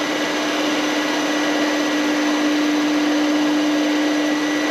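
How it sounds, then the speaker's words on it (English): A grinding wheel cuts into the crankshaft of a Land Rover Series One 1600cc engine, giving a steady, loud machine whine with a constant tone and no break, alone with no talk. "I then carefully feed the wheel in until it just starts to cut the crank or grind the crank"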